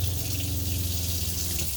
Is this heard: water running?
yes